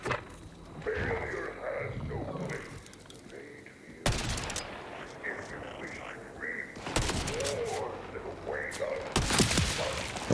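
Video game gunfire in Borderlands 4, loud rapid bursts and bangs in several volleys, mixed with game sounds and a speaking voice.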